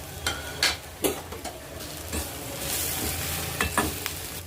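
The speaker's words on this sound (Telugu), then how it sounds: "డీప్ ఫ్రై చేసుకున్నామండి కాకరకాయ ముక్కలు వేస్తున్నాను" Deep-fried bitter gourd pieces are stirred in a hot pan with turmeric and salt, a steady sizzle broken by scraping spoon strokes and occasional clinks against the pan, close and fairly loud.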